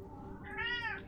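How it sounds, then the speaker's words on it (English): A pet cat lets out a single rising-and-falling meow, fairly close but soft, over a quiet background hum. "That's my cat if you guys can hear that."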